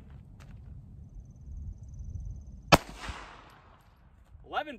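A single sharp report from a Ruger LCP-2 .22 LR pistol with a 2-inch barrel, fired outdoors, loud and close, followed by a brief ringing decay over a quiet background.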